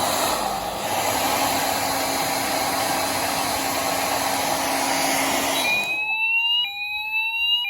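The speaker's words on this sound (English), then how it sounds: "So I've got a hairdryer, and we're just gonna blast it down" A hairdryer blows with a steady, loud roar for several seconds onto a heat detector, then stops as the fire alarm system's high electronic tone starts beeping in steps.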